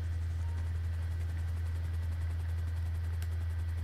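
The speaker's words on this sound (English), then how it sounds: "I'm gonna take the helicopter there." Helicopter in the GTA 5 video game, a steady low rotor and engine drone that stays loud and constant throughout with no talk over it.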